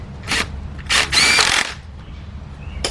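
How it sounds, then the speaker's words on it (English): A cordless impact wrench tightens an 18 mm bolt on a Ford Fiesta engine during head gasket and timing belt work, firing in two or three short, loud bursts close by. "But I'm using my cordless impact."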